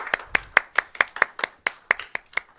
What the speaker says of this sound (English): let's have a round of applause for the Heartbreakers, please.